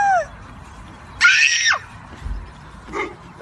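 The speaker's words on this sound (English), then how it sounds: "Listen to these two kids scream and cry when the Easter Bunny shows up." Two young children scream and cry at someone dressed as the Easter Bunny, giving a loud, close shriek followed by a shorter, fainter wail after a quiet gap.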